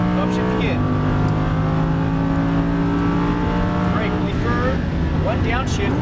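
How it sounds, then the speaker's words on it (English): A 2015 Lamborghini Huracan LP610-4 accelerating at full throttle on a racetrack, its engine roaring loudly up through the revs with rising pitch sweeps marking upshifts, heard from close by beneath an instructor talking. "Full throttle. Upshift again."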